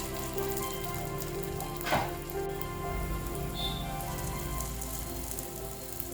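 Rava and curd tikki frying in hot oil in a pan, a soft continuous sizzle with a brief louder crackle near the start, no talking.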